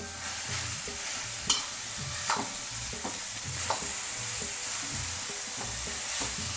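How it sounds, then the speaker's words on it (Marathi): Grated carrot frying in ghee in a pan, stirred with a steady sizzle and occasional sharp scrapes of the spoon against the pan, close and continuous with no talk. "हे 2 वाट्या जो गाजराचा किस आहे हा टाकून घेतला याच्यामध्ये."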